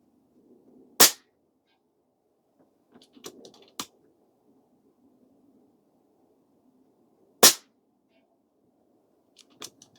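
Air Venturi Avenge-X .25 PCP air rifle firing unlubed slugs: two sharp, loud shots several seconds apart, with a few fainter clicks of handling in between over a low background hum.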